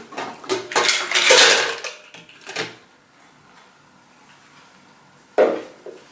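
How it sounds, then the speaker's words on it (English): Ice cubes clink and rattle onto a plate in a cluster of close, bright clatters, then quiet, then one more sharp knock of ice against the dish. "you can keep the ice cubes"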